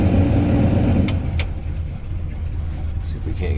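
1974 Chevy K10 pickup, an old logging truck with 61k original miles, idling after a cold start: a loud low engine rumble that eases slightly after the first second, with a few light knocks.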